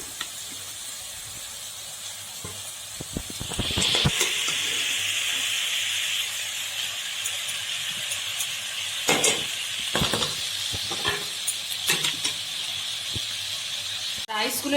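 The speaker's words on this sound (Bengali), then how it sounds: "এই যে রাইসগুলো আমি অল্প অল্প করে দিয়ে দেবো।" Rice being added bit by bit to a hot frying pan for fried rice with egg, the steady hiss rising as it lands, with intermittent stirring scrapes and clatters through the frying; a voice speaks at times.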